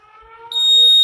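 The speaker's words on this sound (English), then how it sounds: "And now you can hear the air raid siren." A Xiaomi smoke detector goes off, a faint rising tone building to a loud, piercing, steady air raid siren wail that holds close and alone, with no talking.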